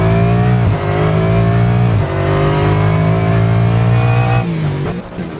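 A Lexus GT3 race car in a video game accelerates at the Nürburgring: a loud, steady engine drone climbs in pitch, with a few quick gear-shift dips before it eases off near the end.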